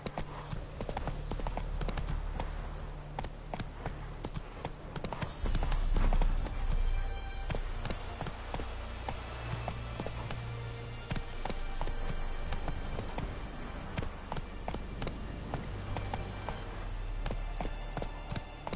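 Horse hooves clip-clop continuously in the Witcher 3 video game, a steady, moderately paced rhythmic clatter close by over a dense low game soundscape.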